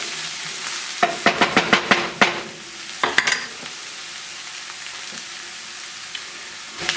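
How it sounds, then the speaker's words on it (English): Garlic stirred in a hot pan for a spicy Thai basil tofu dish, a quick run of sharp scraping clicks and a few more knocks over a steady low sizzle, then mostly quiet frying. "I'm going to add the garlic. And I am just going to blend this in until it's fragrant."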